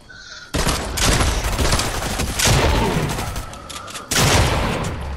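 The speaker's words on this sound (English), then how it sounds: "This shotgun is so delayed, I'm about to die." Heavy shotgun fire in Fortnite booms in loud overlapping blasts, three main bursts with rumbling tails, close and dominant in a hectic battle.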